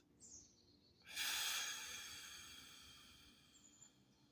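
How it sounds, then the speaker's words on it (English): A single breath pushed out through the mouth, a soft close whoosh that swells quickly and then trails away slowly, alone in a quiet room. "I begin by exhaling all the air out of your lungs, out of your mouth."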